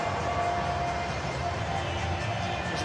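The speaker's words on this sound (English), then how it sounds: "The Twickenham crowd boos that one in traditional English manner" A Twickenham crowd at a rugby sevens match in London boos steadily, a broad, continuous low roar of many voices filling the stadium without a break.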